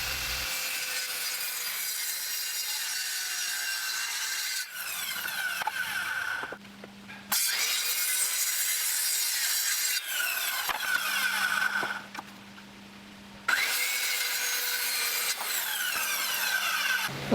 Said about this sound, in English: You then adjust the circular saw blade depth so that it cuts through two full bores and scores the third one.